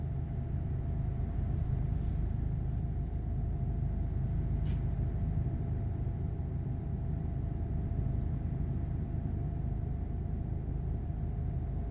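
A heavy truck engine in Euro Truck Simulator 2 drones steadily with a deep, constant rumble and a thin high whine above it, unbroken throughout, with one brief hiss midway.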